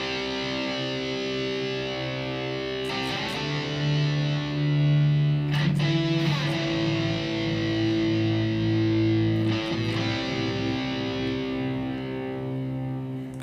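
A heavy, distorted electric guitar plays a repeating low riff from a song, with sustained droning notes, loud and saturated, with a few sharp percussive hits.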